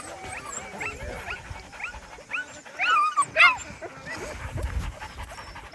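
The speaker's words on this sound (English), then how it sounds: "These dogs are crazy, and I can't believe they can go to the toilet on the run" Sled dogs on an Arctic expedition barking, yipping and panting in excited bursts, several animals close by with a sharper flurry of yelps midway, amid outdoor rustling.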